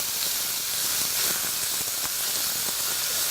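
Beef sizzles loudly while browning in a pan for a pumpkin beef and cashew curry, a dense, even hiss that holds steady throughout, with no voices.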